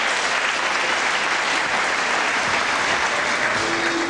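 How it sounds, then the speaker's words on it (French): A television studio audience applauds steadily, a loud dense wash of many hands clapping continuously without a break. "C'est très sympa d'applaudir Véronique"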